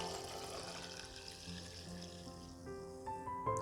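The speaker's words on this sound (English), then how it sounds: "it's time to pour in my coffee" Coffee poured into a cup at home, a steady liquid stream running throughout and rising slightly in pitch as the cup fills, closer and louder near the end.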